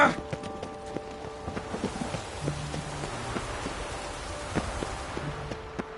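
Steady rain in a PS4 video game patters on a surface, with horse hooves clip-clopping and scattered game-like tonal effects layered over the continuous wash.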